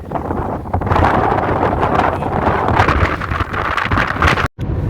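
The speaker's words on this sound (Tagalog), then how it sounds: "Kaya may windmill dito guys kasi malakas ang hangin." Steady, blustery wind buffets the microphone with a broadband roar and gusty rustle, continuous and loud, briefly cutting out near the end.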